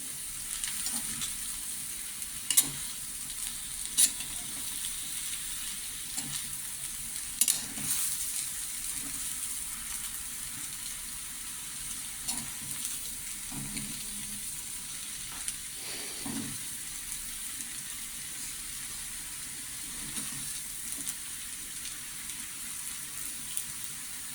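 Elephant foot yam with grated coconut sizzles steadily in a pan as it is stirred. Scraping clinks from the spoon come every few seconds over a continuous frying hiss, with no voices.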